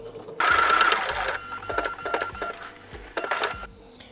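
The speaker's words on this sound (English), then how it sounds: "Sewing along the lines to an intersection, pivoting, and then sewing lines along to an intersection." A sewing machine quilting a chevron design runs in steady bursts of rapid mechanical stitching, close and fairly loud, pausing briefly between runs.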